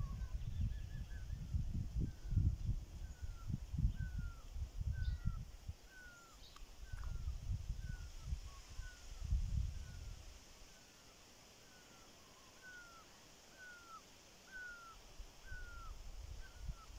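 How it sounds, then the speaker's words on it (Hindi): Birds call outdoors in Kashmir, with a repeated short chirping note at a steady pace through the whole scene over low rumbling wind and handling noise. "आवाज़ परिंदों की"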